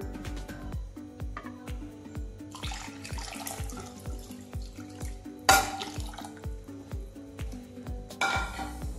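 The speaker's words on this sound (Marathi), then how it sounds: "आपण त्याच्यात थोडंसं बाउल धुवून ते पाणी त्यात ॲड करू" Tap water runs while a bowl is rinsed in a home kitchen during kadhi cooking. The stream is steady, with rhythmic dripping and splashing, and brief louder gushes break through now and then.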